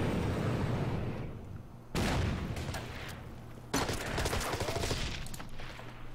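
Gunfire in the wartime strategy video game Order of Battle, set on Bougainville with US Marines: two sharp loud volleys of shots and booms, each followed by a fading rumbling tail.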